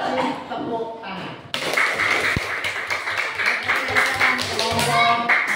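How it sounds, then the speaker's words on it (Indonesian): Applause and clapping from a class of students in an Indonesian classroom during a geometry lesson, a dense burst of many hands that starts abruptly and keeps going steadily, with children's voices mixed in. "tepuk tangan."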